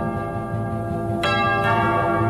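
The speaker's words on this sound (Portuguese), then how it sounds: "toca o sino, sacristão" A church bell rings loud and close, with a sustained resonant tone that is struck again partway through, heavy overtones ringing on, and no talk.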